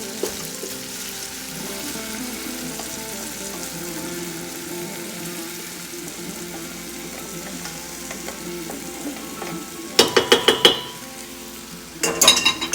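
Parboiled rice for Persian rice with tahdig goes back into a hot pot over melted fat and sizzles steadily, followed near the end by loud clanking bursts of a utensil scraping and stirring against the pot.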